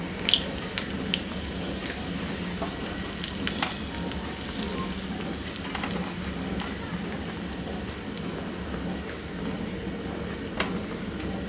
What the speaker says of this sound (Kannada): 4 ಒಣಗಿದ ಮೆಣಸಿನ್ಕಾಯಿ ಹಾಕೋತೀನಿ.